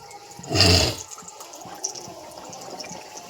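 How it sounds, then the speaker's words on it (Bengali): Mughlai paratha lowered into hot oil, a short loud splash and whoosh of bubbling near the start, then settling into faint crackling and popping of frying, close and without talk. "আমরা এটা তেলে ছেড়ে দিচ্ছি"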